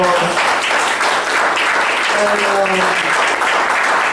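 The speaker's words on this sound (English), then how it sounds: "give yourselves a big, big round of applause" A forum audience gives a big round of applause at a relationship discussion event, the dense clapping loud and continuous throughout while a voice speaks briefly over it.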